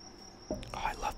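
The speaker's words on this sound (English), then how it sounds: "Oh, I love the sound of those crickets outside." Crickets outside make a faint, steady high trill that runs unbroken beneath soft whispered speech.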